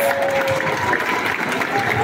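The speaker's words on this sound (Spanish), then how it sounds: "Un aplauso fuerte para ellos" A crowd applauds Paralympic athletes at a Mexico City sports awards event, a steady wash of clapping heard at a distance, with a faint tone and murmuring voices mixed in.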